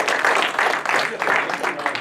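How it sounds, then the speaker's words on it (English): Steady audience applause filling the space, dense continuous clapping from a crowd with a bit of cheering, sustained and fairly loud throughout. "Let's clap it up for Nucky Uncle, guys."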